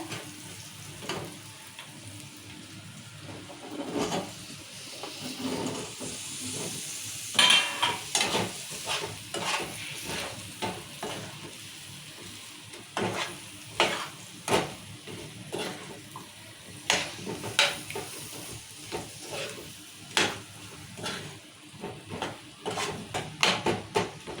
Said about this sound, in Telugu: ఇవి బాగా కలుపుకున్నాం కదా మసాలా అంతా మునక్కాయకు